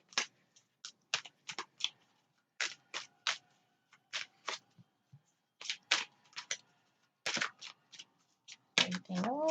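Oracle cards are shuffled by hand in sharp riffling bursts, close and crisp, repeating in uneven clusters with short pauses between, and a voice is heard briefly near the end.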